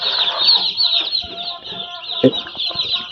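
Tiger-breed chickens cluck and newly hatched chicks peep nearby in a busy, overlapping chorus of short high calls, with a brief louder squawk near the middle.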